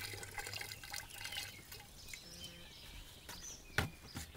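Vinegar, 5% strength, poured from a gallon jug into a garden sprayer, a close, uneven liquid splash and gurgle that comes and goes, with a few sharper knocks near the end.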